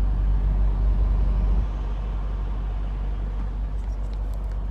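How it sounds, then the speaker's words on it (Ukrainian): A tow truck pulls away, its low engine rumble loud at first, then dropping to a steady, quieter drone as it moves off, with no talk over it. "Евакуатор поїхав"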